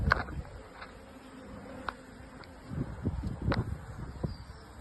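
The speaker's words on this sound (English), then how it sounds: "The bees are lovely and calm and slow on the frame." A soft, steady hum of honey bees buzzing close by on a hive frame, with faint rustling and light tapping sounds over the top.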